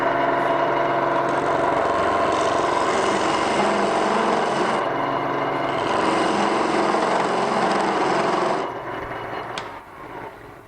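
Scraper cutting a spinning wooden furniture leg on a lathe, a loud steady grinding rasp with the motor's hum underneath, running continuously before easing off near the end.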